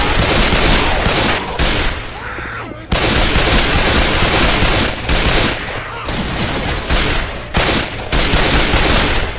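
Heavy gunfire in the Dead Center mall level of Left 4 Dead 2, loud overlapping bursts of shots broken by a few brief pauses, close and intense throughout.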